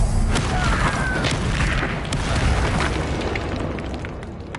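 A Bombarda spell explosion in the Hogwarts Legacy video game, a dense, loud blast with a booming rumble that stays steady for several seconds, with a few sharper pops inside it.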